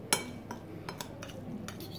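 A utensil scrapes and clinks against a pan while stirring fried instant noodles, in a few irregular strokes, a sharp clink at the start, faint and close.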